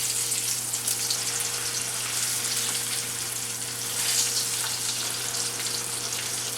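Chicken-fried meatloaf patties fry in hot grease, a continuous bright sizzle and crackle under a low steady hum, heard up close with no voices.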